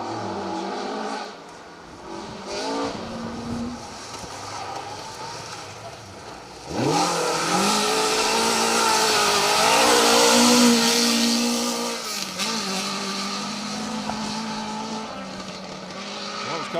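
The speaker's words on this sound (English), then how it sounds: "Car 37, Nick Kitchen and Hannah McKillop dancing their Mark 1 around the hairpins, wagging that tail." A Ford Escort Mark 1 rally car drives through hairpin bends, its engine revving and dropping as it slides the tail out. It roars loudly up close after about six seconds, with faint tire squeal, and a crowd is heard in the background.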